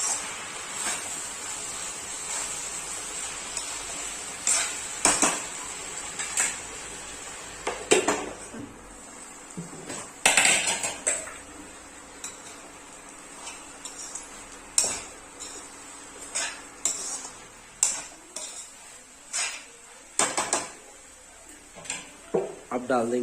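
Fenugreek, spinach and onion greens are tossed in a pan over steady background sizzle, with a spoon scraping and clinking against the metal in irregular, repeated knocks.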